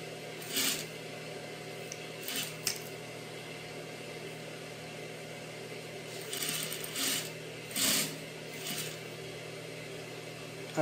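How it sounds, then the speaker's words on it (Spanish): A straight-stitch sewing machine joins the side seams of a garment, humming in a steady low drone with several short bursts of faster stitching, close and fairly quiet. "Voy a unir con máquina recta."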